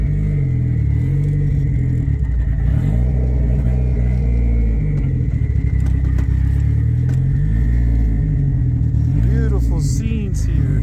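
A Mitsubishi Mirage/Evo 3 conversion with a 4G63 engine revving after a cold startup following three months idle, a loud steady rumbling engine with rising revs near the end, under continuous talk.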